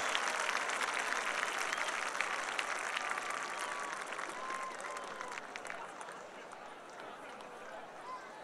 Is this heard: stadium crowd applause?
yes